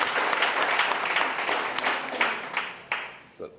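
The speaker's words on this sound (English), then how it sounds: "give him a round of applause" An audience at a think tank event claps in a dense round of applause that slowly dies away, ending in a few scattered claps.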